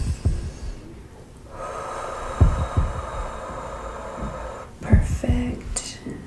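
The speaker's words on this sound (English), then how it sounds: "another deep breath." A person nearby takes a slow, deep breath during a nurse-style ASMR exam. A long, steady inhale is framed by soft breathy puffs and small thumps at close range.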